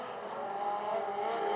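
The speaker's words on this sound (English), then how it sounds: "You're going to hear those motorcycle engines wind up now." Legends race cars with motorcycle engines rev hard on a speedway oval, a sustained high engine whine that builds slightly as they wind up, heard from a moderate distance.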